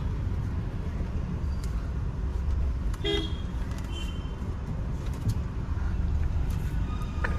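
Car horns honk in street traffic in Chiplun in the Konkan region, with a few short toots over a constant rumble of road noise.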